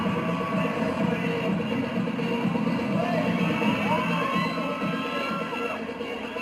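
A large crowd screams and cheers nonstop for actor Alden Richards at a 2025 fan event, a dense wall of shrieks and whoops that stays loud and close throughout, with no break in the noise.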